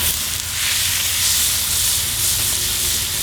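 Butter and chicken sizzling on a Cuisinart 360 flat-top griddle, a loud, steady hissing fry that holds constant with no voices.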